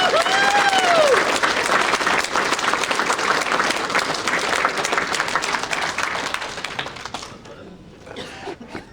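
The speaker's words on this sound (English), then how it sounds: "we'd like to ask everyone a round of applause for Mr. Dick Lee." Audience applause at an award ceremony honoring a harness racing figure, a dense sustained roar of clapping that fills most of the clip before thinning out near the end, with some scattered cheers.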